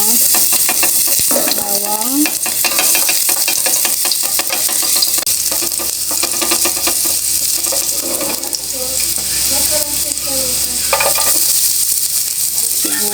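Onions frying in oil in a pan just used for french fries, a steady loud sizzle with occasional stirring scrapes running throughout, no talk.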